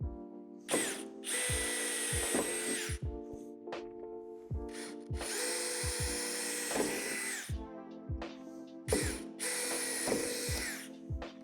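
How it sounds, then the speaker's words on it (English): A power drill bores through the first layer of sheet metal on a Lifetime outdoor storage shed door. It comes in three loud whirring bursts of a few seconds each, with clicks and handling noises in the short pauses between them. "drill them out with the provided drill bit, only going through the first layer of metal"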